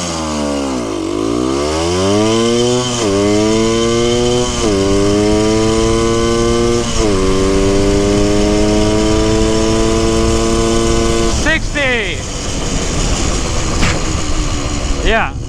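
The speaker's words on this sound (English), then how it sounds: "Man, 70 on a vintage bike is way different than 70 on a brand new bike." A vintage Honda MT250 motorcycle engine revs up loudly and close, climbing through several gears with repeated rising pitch sweeps and short dips at each shift, then backs off near the end.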